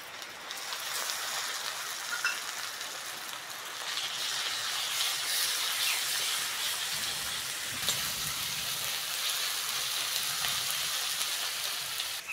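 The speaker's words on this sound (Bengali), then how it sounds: "পেঁয়াজটা ভেজে নিয়েছি, এবার আদা রসুন বাটাটা দিয়ে দেবো।" Ginger garlic paste sizzles in a pan of fried onions while a taro (gati kochu) curry is being cooked. A steady, even hiss and crackle like light rain holds from start to finish at moderate volume.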